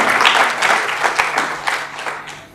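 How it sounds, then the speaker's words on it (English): An award ceremony audience at an IT conference in a hall breaks into loud, sustained applause, a dense patter of many hands clapping that gradually fades over a few seconds. "a round of applause for Mr. Kaswadkar"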